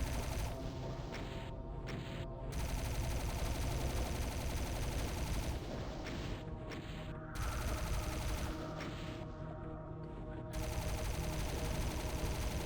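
Plasma rifle fire from Doom II, a dense, continuous rapid barrage of energy shots running through nearly the whole stretch at steady loudness, with only brief thinning between bursts and no talking.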